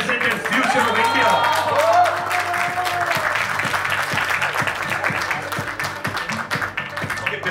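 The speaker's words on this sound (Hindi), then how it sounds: "Special chief guest के लिए तालियां please." A crowd at a short film trailer launch event claps for the special chief guest, steady applause and some cheering mixed with voices and music underneath, fairly loud and continuous.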